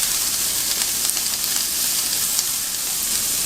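Onion and carrot fry in a pan with a loud, steady sizzle and crackle that stays constant throughout, close up, with no voices.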